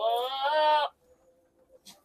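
A single goat at a livestock market gives one loud, wavering bleat lasting under a second, followed by near silence with faint background noise.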